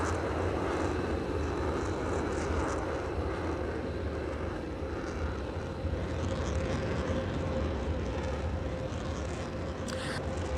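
A Su-57 Felon jet in a VRChat airshow roars in a steady, broad wash of engine noise that holds loud and continuous throughout, with a faint whining tone running underneath.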